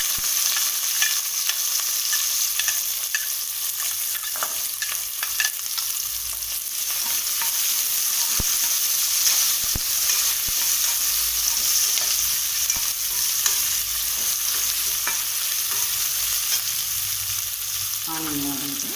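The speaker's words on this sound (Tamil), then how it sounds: "கடுகு பொரிஞ்சிருச்சு. இப்போ ஆனியன் போட்டுக்கலாம்." Sliced onion sizzles steadily in a pan of hot oil where mustard seeds have just popped, a loud continuous frying hiss with scattered stirring clicks and scrapes throughout, no talking.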